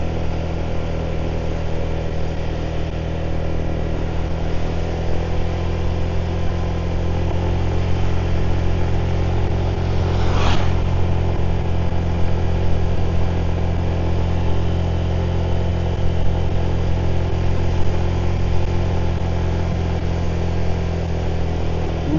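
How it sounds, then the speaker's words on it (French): A 125cc motorbike engine drones steadily while climbing a hill at low speed on Koh Samui, a close, even hum that stays unchanged in pitch for the whole stretch, with no voices. "le bruit du moteur"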